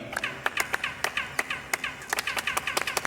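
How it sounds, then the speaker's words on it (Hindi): Series of sharp handclaps in front of the Kukulcan pyramid, each answered by a chirping, laser-like echo, repeating irregularly at moderate distance with no talking. "अगर इसके सामने कोई ताली बजाए, तो आपको वापस एक लेजर की तरह आवाज आएगी"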